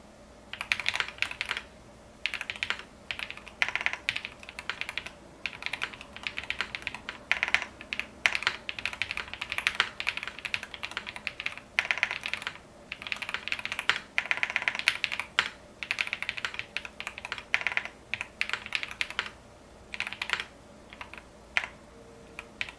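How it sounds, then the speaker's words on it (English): Steady typing on a QK80 mechanical keyboard, clacky keystrokes in quick uneven bursts with brief pauses, close by and without voices. "always good to have multiple sound recordings when it comes to listening to keyboard sounds"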